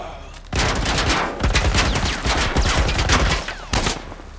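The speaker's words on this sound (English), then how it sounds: "There's a 50 cal shooting at us." A .50 caliber machine gun fires from a distance in a post-apocalyptic shooter game, sustained loud bursts of rapid gunfire with short gaps, booming impacts and echo, plus faint background shouting.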